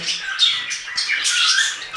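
Several pet budgerigars squawk and chatter in short, bright, repeated calls close by, a continuous busy flock sound with no voices.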